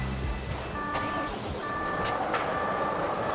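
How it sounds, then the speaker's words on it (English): Volvo FH truck on a factory production line, its engine a low steady rumble under a busy hall with intermittent beeping tones and clanks, moderately faint and continuous. "Production Director Kuhn wants to start up our truck personally"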